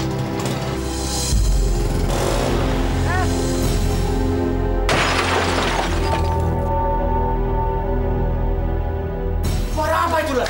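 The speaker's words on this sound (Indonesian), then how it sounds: "Sepertinya suara tabrakan motor" A crash heard as a harsh burst of shattering and breaking noise, loud and close, blending with a steady drone and voices talking over it.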